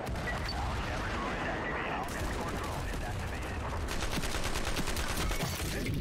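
Rifle and shotgun gunfire in the shooter game Ironsight, a continuous crackling barrage with bursts of rapid shots, heavy and close throughout the clip, with voices talking over it.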